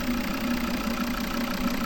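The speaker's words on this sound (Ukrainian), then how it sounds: "Д3 двигун, 2-літровий п'ятициліндровий." A 2011 Volvo V50 D3 2.0-litre five-cylinder diesel engine idles steadily throughout, a low, constant rumble with a faint rhythmic knock and no voices.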